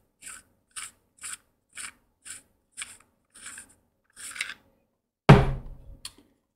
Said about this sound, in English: unscrew our emitter.